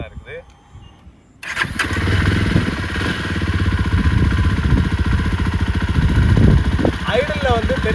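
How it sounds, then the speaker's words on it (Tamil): A Jawa Bobber 42 single-seat cruiser motorcycle engine cranks and catches after a quiet moment, then settles into a loud, steady, close-up idle with an even throbbing pulse. "வண்டியை நம்ம இப்போ ஸ்டார்ட் பண்ணியுமே பார்ப்போம்."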